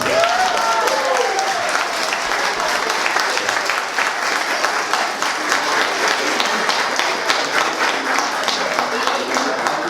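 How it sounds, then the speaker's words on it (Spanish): Wedding guests applaud steadily and loudly at a celebration, a dense wash of clapping filling the whole stretch with a few voices mixed in. "Les presento a la familia Simón, Simonet Laventure. Démosle un aplauso."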